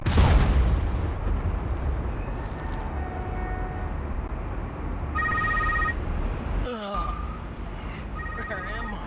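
A telephone rings in the Spider-Man vs Venom PS2 game, with short bursts of electronic ringing in the second half over a rumbling game soundtrack that opens with a boom.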